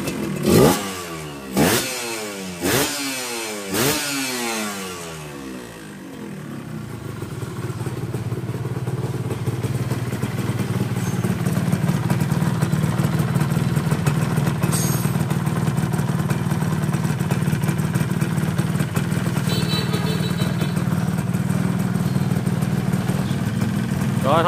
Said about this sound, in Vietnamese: Máy nổ là thì thầm luôn nha mọi người.